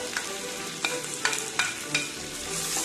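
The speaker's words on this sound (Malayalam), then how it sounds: "ഇതിലേക്ക് നമുക്ക് അരിഞ്ഞു വെച്ചിരിക്കുന്ന ക്യാപ്സിക്കം കൂടി ചേർത്ത്" Beef and chopped capsicum stir-fry in a pan for a Kerala-style beef ularthiyathu, a steady sizzle broken by about five sharp scraping stirs of a spatula at fairly even intervals, close and without speech.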